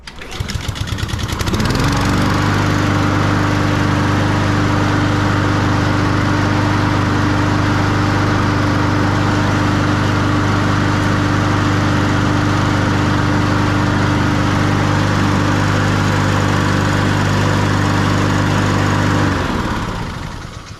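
A push lawn mower's small engine runs steadily at a constant idle-to-mid throttle for roughly seventeen seconds, starting up and cutting off at the ends, loud and close with a strong low hum and no talking.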